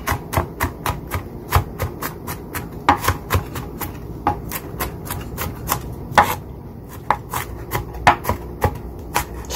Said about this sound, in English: So just go through this garlic and mince it.